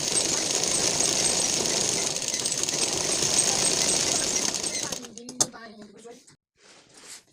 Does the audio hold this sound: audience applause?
no